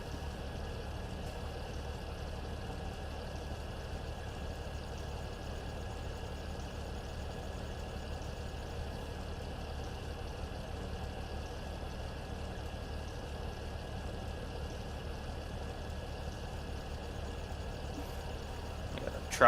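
An old, dirty tractor engine idling in Farming Simulator 17, a steady low rumble that holds evenly throughout with no talking.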